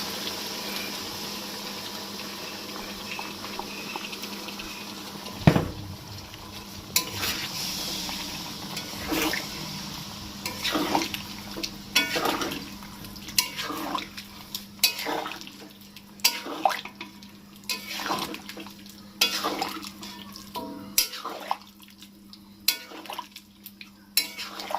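Yogurt thinned with water is added a little at a time to chicken cooking in a pot for a Bengali doi chicken kosha, with sizzling, stirring and clinks of a utensil against the pan, close and busy, no talking.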